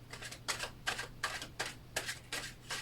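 Tarot cards being shuffled by hand: about seven crisp, rapid riffling bursts at a steady rhythm, close and fairly quiet, with a low hum beneath and no talk.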